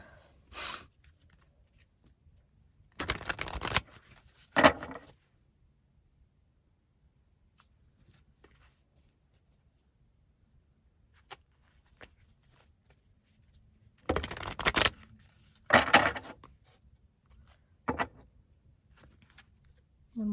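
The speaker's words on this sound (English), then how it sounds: "One more shuffle." Tarot cards from an oracle deck being shuffled by hand, two close bursts of riffling and flicking, each a couple of seconds long, separated by quiet gaps with a few faint taps.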